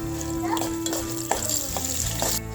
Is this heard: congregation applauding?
no